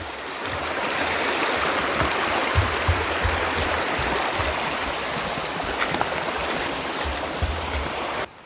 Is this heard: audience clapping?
no